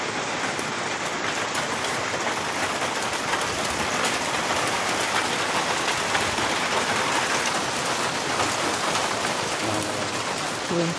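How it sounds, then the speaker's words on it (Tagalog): Heavy rain pouring down steadily, a dense loud wash of drops hitting surfaces close by, with no voices. "Umulan na dito guys. Umulan na. Bumuhos na yung ulan."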